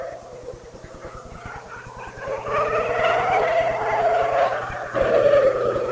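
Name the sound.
Formula 1 race car engine, Ferrari and Honda-powered BAR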